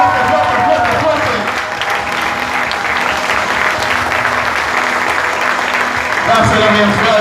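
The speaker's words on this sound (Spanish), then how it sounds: "Dale un aplauso, papá" Church congregation applauding loudly, a dense, steady wash of clapping with faint crowd voices underneath and a steady tonal backing sound.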